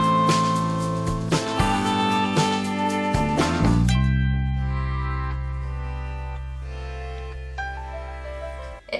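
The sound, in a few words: electric guitar volume swells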